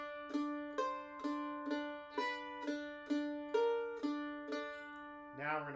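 A mandolin plays a bright shuffle lick in G, a steady run of evenly spaced notes, about ten picked strokes, each ringing and decaying, close and clear.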